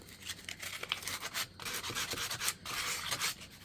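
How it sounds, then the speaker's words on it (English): Sandpaper roughing up the surface of a tumbler, a close, busy scratchy rubbing that comes in quick uneven strokes and runs without pause. "I am going to sand the rest of this, just kind of rough it up a little bit."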